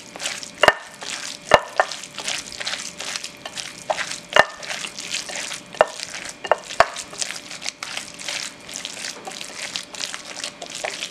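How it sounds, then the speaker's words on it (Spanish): Hands mix a raw shrimp meatball mixture in a bowl, giving a steady, wet, squelching stir with soft slaps and occasional sharper knocks, close and continuous with no speech. "Vamos a revolver."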